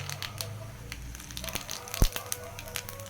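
Mustard seeds and cumin splutter in hot oil for a tempering in a Tamil greens dish, giving faint, scattered crackles and small pops close by.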